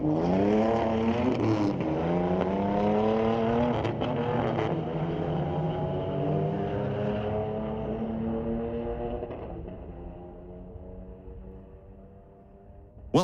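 A Mazda Speed 3 and another car drag race down the strip at Mission Raceway Park, their engines loud and close at the start. The engine notes climb through several gear changes, then fade as the cars pull away into the distance.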